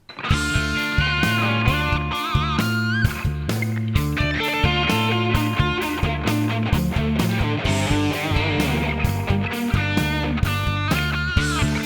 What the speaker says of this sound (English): make a guitar solo that is based only on arpeggios